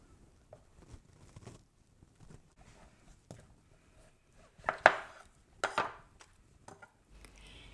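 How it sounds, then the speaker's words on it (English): A knife cutting a portobello mushroom into roughly one-centimeter cubes on a board, heard as scattered soft taps and a few louder, sharper chops close by, with no talking. "Cut cubes too, around 1 centimeter thick."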